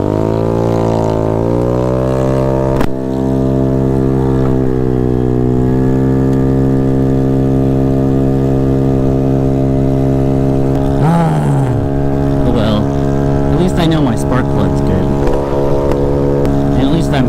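A Honda Ruckus scooter's engine drones loudly and steadily while riding, its pitch climbing in the first seconds and then holding high, with some rougher fluctuations later on.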